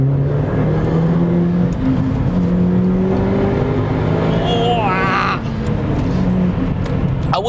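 A Subaru Impreza engine revs hard under load while driving, a loud continuous climbing drone that rises and holds through the whole stretch, with a voice speaking over it.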